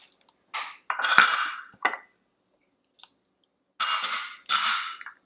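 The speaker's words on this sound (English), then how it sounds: "take all of your ingredients and just kind of dump it all in" Sabudana vada ingredients tumble into a mixing bowl in several separate dumps, each a short burst of rattling, clattering bowl sound, with silent gaps in between.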